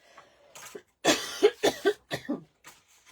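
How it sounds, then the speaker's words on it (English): Several harsh coughs in quick succession, close and fairly loud, with short pauses between bursts and a fainter cough or throat sound at the start. "I've still got a cough that I've had for months"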